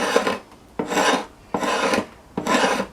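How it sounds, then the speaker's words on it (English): The edge of a draw knife scraping yew bow wood, four rasping strokes evenly spaced and close to the listener, no voices. "if I use the draw knife edge on like this, you can scrape away at the ring"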